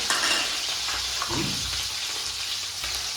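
Curry leaves, chillies and cumin hit hot oil with a loud, continuous sizzle, broken by scraping and stirring sounds from a pan, and no voices.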